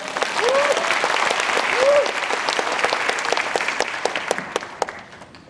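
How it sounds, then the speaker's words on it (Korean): Church congregation at a district Christian union revival meeting applauding to welcome the preacher, full sustained clapping with a couple of brief cheering voices early, thinning into scattered distinct claps toward the end. "박수로 환영합니다."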